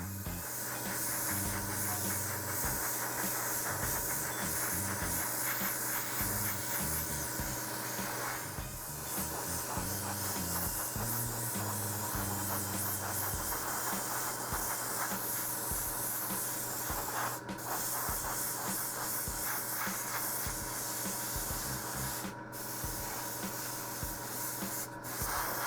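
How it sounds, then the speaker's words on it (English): Grey paint sprayed in a light misty coat over parts of a 1/35 scale HH-60G Pave Hawk model helicopter kit, a continuous close airbrush hiss with a low background hum and a few short breaks. "The second coat is a light misty coat of the same paint to blend the effect."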